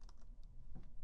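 Username typed on a computer keyboard, a quick run of soft, close key clicks lasting about a second over faint room noise.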